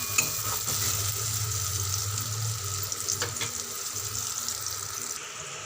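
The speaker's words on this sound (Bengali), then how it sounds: "একটু ভালো করে ভাজা করে নেব" Garlic frying in a pan for bele fish paturi, a dense, loud continuous sizzle with a low hum beneath and a few stirring knocks, no talking.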